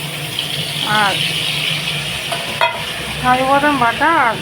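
Water poured into a hot pan of frying spices and cashew paste, a brief sizzling gush over steady cooking hiss, with someone speaking.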